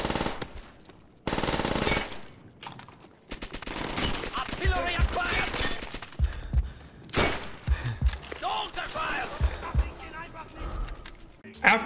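Rapid automatic gunfire from Call of Duty: World at War multiplayer, dense bursts and single cracks with explosions mixed in, loud and continuous with a voice talking over parts of it.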